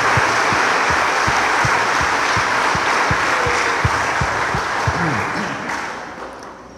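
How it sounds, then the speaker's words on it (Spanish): A church congregation at a Corpus Christi Mass applauds children after their first communion, loud sustained clapping with a steady rhythmic beat running through it, fading slightly toward the end. "un aplauso para ellos."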